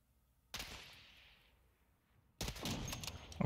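Gunfire in Warzone 2.0 comes as two bursts: a sharp volley whose ring slowly decays, then after a pause a second, busier run of crackling shots, all fairly quiet and without speech.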